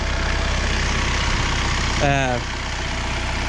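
An RK55 tractor diesel engine with a turbo idling close by, a steady low rumbling pulse throughout, with a short voice heard briefly over it.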